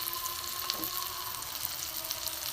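Cumin, coriander powder and ginger sauté in a hot pan with oil for a chana dal curry, giving a steady, fairly soft sizzle with a faint stir partway through and no voices.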